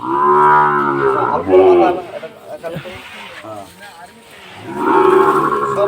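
A young Sahiwal bull calf gives loud, close, drawn-out moos, one at the start and another near the end, with people talking in between.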